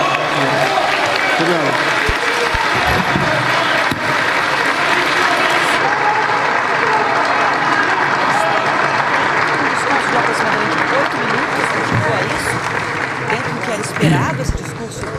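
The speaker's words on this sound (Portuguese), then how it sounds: "ele é aplaudido pelos parlamentares" Members of Brazil's parliament applaud the president at his inauguration. The clapping is loud, dense and continuous and fills a large hall, with a voice speaking briefly over it.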